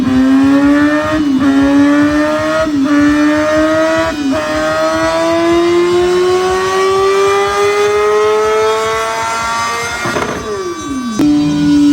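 RR motorcycle engine revving hard and close, repeated throttle blips with a rising, climbing pitch, then a sharp drop and another burst near the end, loud with no talk.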